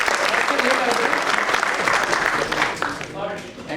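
Dense, loud applause from a seminar audience fills the whole stretch, with a voice briefly audible through the clapping near the end.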